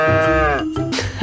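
Farm cattle on a village farm in Erezée let out a loud, close, drawn-out lowing call that falls in pitch before breaking into a second shorter call, with no talk over it.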